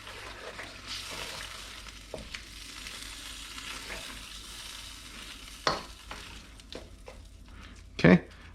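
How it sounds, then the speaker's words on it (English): A spoon stirs chicken adobo with bay leaves in a pot, with soft scraping and a few sharper clinks against the pot over a faint background sizzle. "give it a stir"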